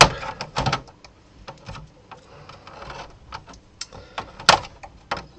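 Small plastic clips on a 23-inch AOC i2369vm monitor casing are pried apart during a repair. Several sharp snaps and clicks ring out close by at irregular intervals, with fainter scraping and handling noise between them and no talking.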